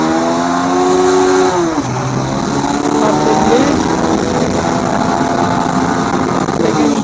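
A TVS Apache RTR 2V motorcycle accelerates hard in first gear, its engine note climbing in rising whines, then shifting and revving on under loud wind rush, recorded up close from the rider's position.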